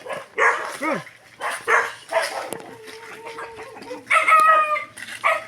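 Dogs bark and chickens cluck and squawk on a rural farm in the Philippines, loud and close, the barks coming in repeated bursts over a busy mix of fowl calls.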